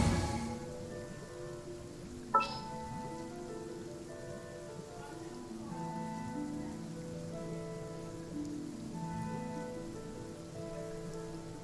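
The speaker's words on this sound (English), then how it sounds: "I'm used to the rain, but you should probably use an umbrella." Steady rain falls in the video game Genshin Impact, with a constant patter on surfaces under sustained musical tones and one sharp click early on.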